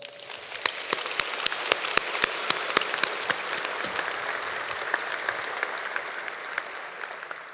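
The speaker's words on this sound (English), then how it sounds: "Can we give them a round of applause?" An audience at a commencement ceremony applauds, beginning with a few loud, separate claps and swelling into dense, steady clapping that fills the hall and carries on to the end.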